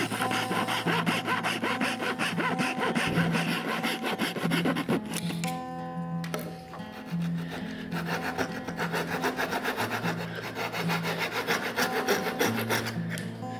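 A hand saw cuts the gaps between the teeth of a wooden gear, with steady rasping back-and-forth strokes close up and a brief pause midway before the sawing resumes.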